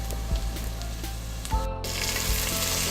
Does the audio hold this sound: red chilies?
yes